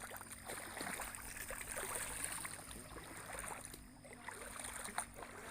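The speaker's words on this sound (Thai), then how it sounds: "น้ำไหลมาเรื่อยพี่น้องไหลมาถึง" Water rushes steadily over rocky rapids swollen after rain, a continuous broadband flow with no voices, fairly close and even in level throughout.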